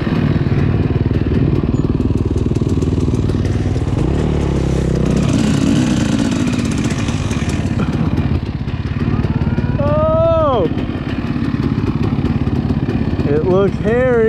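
A motorcycle engine runs loud and continuous while on a steep, dangerous trail with a 900-foot drop, its rough drone filling the whole stretch as voices talk over it.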